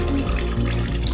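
Water pouring steadily into a bowl of thick curd while buttermilk curry is being made, a continuous close splashing gush that holds level throughout, with no talking.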